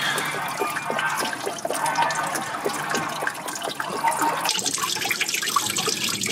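Coolant draining from the engine block of a Land Cruiser 80 with a 1HDT engine, a steady trickling liquid stream with faint dripping, continuous and close, with no one talking.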